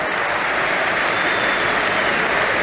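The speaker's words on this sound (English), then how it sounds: "Applauds all 4 corners of Old Trafford." A large football crowd at Old Trafford applauds Bruno Fernandes of Manchester United as he is substituted off against Fulham, a steady, loud wash of stadium clapping with no break.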